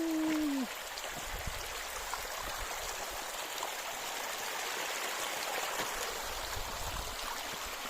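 Spring water flows into a village stream near the Syrian border with a steady, soft babble and trickle. A brief tone sounds at the very start, and the flowing water then continues evenly throughout.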